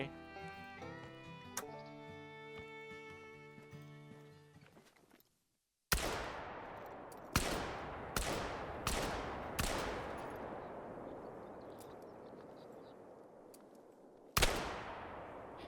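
High-caliber hunting rifles fired in the hunting game theHunter: Call of the Wild: after a stretch of gentle music, about six loud, separate shots boom out with long ringing tails, spaced irregularly with a pause before the last one.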